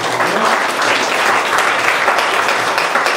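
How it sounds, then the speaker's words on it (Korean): Enthusiastic applause from a church youth-group congregation at a Sunday service, a dense, loud clapping that continues steadily for the whole stretch with no talking over it. "박수 부탁드리고요"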